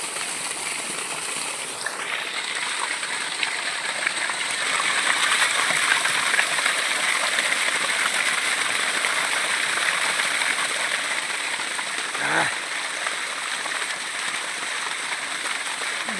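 Irrigation water rushes steadily into a farm field, a continuous close hiss and gurgle of flowing water that swells slightly midway, with a brief faint thump near the end.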